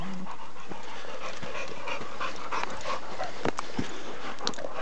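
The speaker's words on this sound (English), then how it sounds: "all the doggies are breathing so heavily you can't hear me" Large pack of dogs out on a group run in New Zealand, panting heavily and continuously close by, with scattered whimpers, yips and sharp footfall or collar knocks, no talking.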